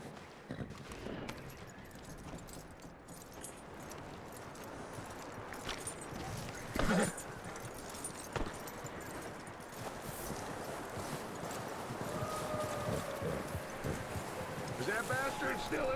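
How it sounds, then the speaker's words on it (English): Horse hooves clip-clopping through snow in the Red Dead Redemption 2 video game, a steady rhythmic clopping under wind noise, with a louder thump around the middle and a voice speaking at times. "That looks like a decent horse."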